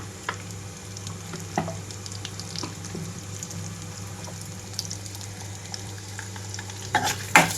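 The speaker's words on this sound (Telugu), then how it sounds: "తాలింపు గింజలంతా ఎర్రగా వేగే వరకు వేయించుకోవాలి ఇక్కడ" Mustard and other tempering seeds with dried red chilies crackle and sizzle in hot oil, frying until the seeds turn red, a steady frying hiss with scattered pops and a louder burst of spattering near the end.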